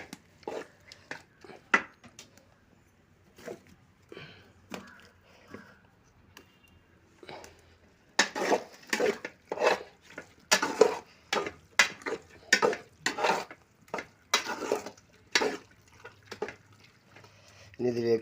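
A spoon stirs and mixes 3 kilos of chicken into biryani masala in a pot, giving rhythmic scraping clatter that gets louder and busier halfway through, while someone talks over it.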